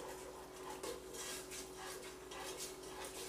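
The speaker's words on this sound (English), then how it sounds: "start stirring it up" Sage and butter being stirred in a pot with a utensil, a steady scraping and swishing that continues throughout, close and fairly quiet with no talking.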